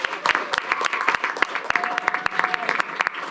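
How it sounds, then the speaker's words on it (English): A round of applause at a school board meeting, with scattered, fairly close hand claps from a modest group, irregular and steady for a few seconds, with a few voices faintly underneath. "let's have another round of applause"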